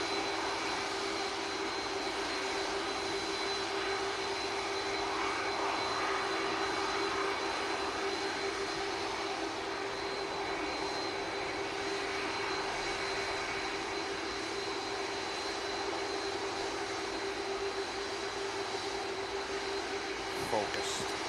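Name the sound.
EasyJet jet airliner departing for Geneva, engines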